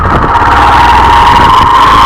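A Hero Glamour XTec 125 motorcycle engine pulling in second gear, with a loud close steady drone that rises slightly in pitch as it accelerates, heard alone.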